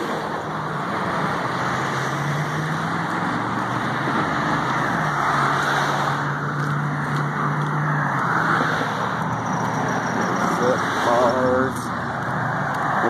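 Cars drive past on a road beside a person walking home, a steady loud traffic rumble with passing vehicle swells under ongoing wind and movement noise.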